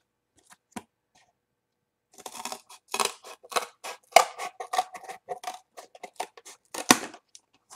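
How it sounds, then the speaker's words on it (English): Scissors trimming a cardboard puzzle piece on a cutting mat, a close run of crisp snips and crunchy cuts after a couple of isolated clicks. "Let's get that piece off the bottom there, give that a nice trim."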